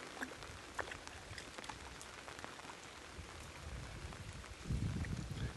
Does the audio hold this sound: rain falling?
yes